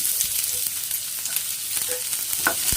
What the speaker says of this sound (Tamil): நல்லா அதை வதக்கி விடுங்க கலர் வந்து மாறணுங்க